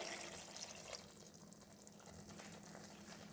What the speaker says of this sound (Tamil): இப்போ மிக்சியில் இருக்க தண்ணி ஊற்றுலாங்க